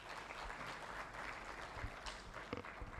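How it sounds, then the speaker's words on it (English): Audience clapping for presenters at a national health care quality improvement conference, fairly faint and steady, with a few sharper claps standing out near the end. "Ladies and gentlemen, can we clap for our presenters?"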